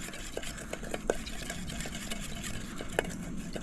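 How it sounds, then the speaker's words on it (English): A mixture is stirred in a bowl for a fish dinner, giving soft, steady scraping and swishing with a few sharper clinks of the utensil against the bowl. "Now we're just gonna mix that up."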